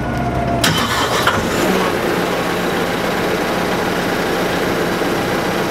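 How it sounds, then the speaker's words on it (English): An Epiroc FlexiROC T15 drill rig's diesel engine cranks and catches, then settles into a loud, steady rumble that continues at close range without talk. "after pressing the horn, which is a requirement for any function, we can start the engine"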